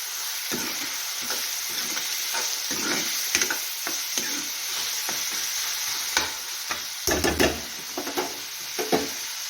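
Onion, garlic and chopped tomato fry in a pan at home, a continuous sizzle broken by repeated scraping stirs of a spoon against the pan, fairly close and with no voices.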